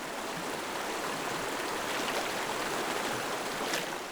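A cold, icy stream flows steadily nearby, a broad, even rush of water that holds constant for the whole stretch with no voices.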